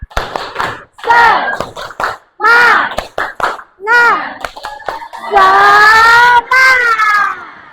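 Students in a classroom perform a spirit clap chant, their voices chanting together in short bursts punctuated by sharp group hand claps, building to a longer sustained shout at the end.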